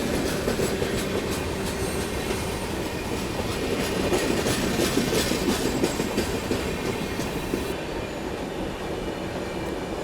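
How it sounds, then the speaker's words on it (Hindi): Patliputra SF Express, a superfast passenger train, rolls slowly under a caution order, heard from inside a 2AC coach: a steady loud rumble with rhythmic wheel clatter and faint squeal, continuous throughout. "ट्रेन स्लो हो ही गई।"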